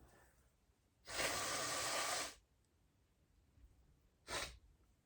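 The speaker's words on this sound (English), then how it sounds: "I'm like blowing my nose into like these shorts." Two nose blows, a long forceful one followed after a pause by a shorter one, close and harsh against near silence.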